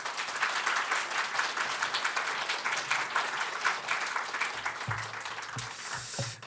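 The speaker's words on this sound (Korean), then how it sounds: "목사님을 격려하는 의미로 큰 박수로 맞이하도록 하겠습니다." Church congregation applauding the pastor as he comes up to preach at a Sunday worship service, a steady, full round of clapping that fills the room for the whole stretch before tapering near the end.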